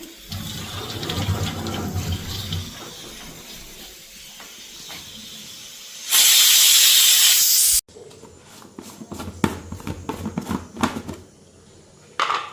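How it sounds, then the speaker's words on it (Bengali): A pressure cooker on a kitchen stove lets off a sharp, loud burst of hissing steam lasting about two seconds, set among quieter clattering and water-like kitchen noise before and after. "আমার প্রেশার কুকারে একের পর এক সিটি পড়েই যেতেছে"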